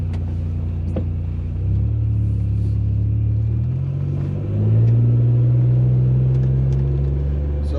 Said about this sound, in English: we're gonna go ahead and head out to the road and we'll make a little bit of noise